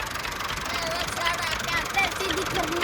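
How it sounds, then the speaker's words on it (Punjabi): A tractor engine runs at a steady, muffled rumble while an overturned trolley is pulled upright, heard from nearby with voices and outdoor noise over it. "ਹੁਣ ਟਰੈਕਟਰ ਨਾਲ ਸਿੱਧੀ ਕਰਨ ਲੱਗੇ ਨੇ"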